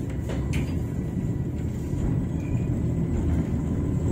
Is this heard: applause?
no